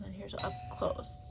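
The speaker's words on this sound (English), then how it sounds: "if you heard that, that's my doorbell" A home doorbell chimes faintly in the background, its steady tones sitting under a woman's close, quiet talking.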